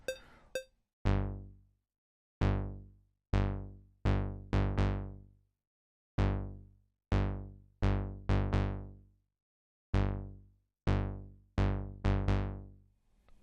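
A sparse synthesized kick drum pattern made in Korg Gadget: tones with a sharp attack and a decay that fades out, repeating in an irregular rhythm with gaps of silence between.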